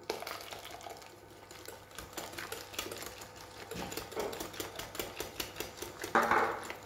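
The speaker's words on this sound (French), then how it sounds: "Et on continue à mélanger." Cake batter being whisked in a bowl as oil and pineapple syrup go in, for a pineapple and coconut sponge; steady rapid clicking and tapping of utensil against bowl, close and moderately loud, with no talking.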